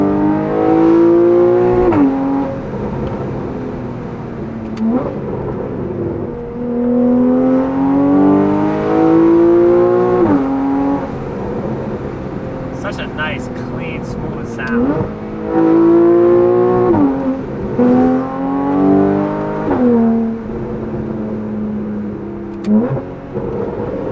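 A Porsche 991.1 911 Carrera 4S fitted with a Valvetronic Designs exhaust revs repeatedly, its note sweeping up and falling back in loud, close blips with a steady idle rumble between them.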